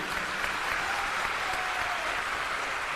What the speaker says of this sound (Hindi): एक बार जोरदार ताली बजाइए प्रशासन के लिए भी।